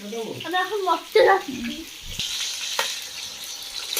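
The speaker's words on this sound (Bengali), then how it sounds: "কপি ভাজা হয়ে গেছে এবার কপি ভাজা তুলে নেবে" Cauliflower sizzles and crackles steadily as it fries in oil, with a voice talking over the start before the frying carries on alone.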